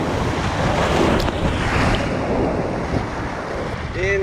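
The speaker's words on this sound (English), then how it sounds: "These waves are enormous." Large ocean surf crashes and roars continuously along a Baja coastline, loud and close with heavy wind buffeting the microphone throughout.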